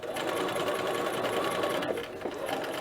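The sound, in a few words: sewing machine stitching and back stitching a dress yoke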